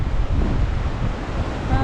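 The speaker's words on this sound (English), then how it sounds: "and watching the waves." Ocean waves surging against the rocks at Canal Rocks in the Margaret River region, a loud, continuous roar of surf heavily mixed with wind buffeting the microphone, with no pauses.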